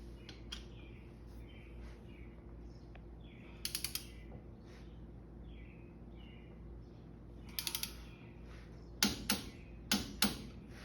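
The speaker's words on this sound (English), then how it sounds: "Torque wrench set to 30 foot-pounds." A torque wrench ratchets in brief clicking bursts while tightening steering arm studs on a Toyota FZJ80 knuckle to 30 foot-pounds, with a few quiet clicks early on and a louder run of sharp clicks near the end.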